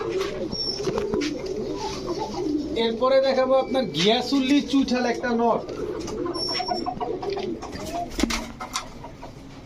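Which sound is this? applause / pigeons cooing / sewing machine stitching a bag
pigeons cooing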